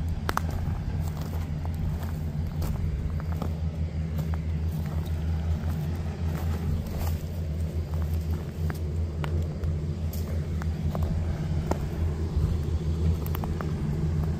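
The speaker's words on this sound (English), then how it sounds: "they have a fan or something running inside that building. That's what we're hearing." A fan runs inside a nearby building at night, giving a steady low rumbling hum that persists evenly throughout with no talk.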